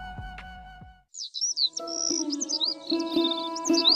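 A magical bird in a Bengali cartoon chirps in rapid, bright twittering bursts over a sustained musical backdrop, following a brief lower sound and a moment of silence.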